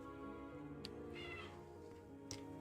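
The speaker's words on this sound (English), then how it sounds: "remove my cat from the room." A pet cat meows indoors, one drawn-out call in the middle, fairly close but quiet beneath a steady tonal backdrop of game music.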